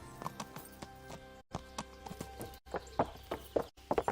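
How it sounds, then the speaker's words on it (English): Horse hooves clip-clopping in the medieval game Kingdom Come: Deliverance, a steady run of hoof strikes over background game music, with the sound briefly cutting out twice. "Doesn't that sound good with the horses' hooves?"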